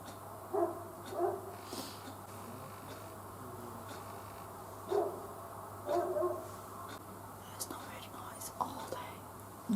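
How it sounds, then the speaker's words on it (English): A dog barks in short bursts from some distance outside, a few separate volleys over a quiet, hissy background with a steady low hum. "There's a dog barking"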